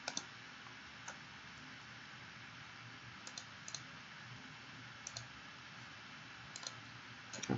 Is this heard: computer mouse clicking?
yes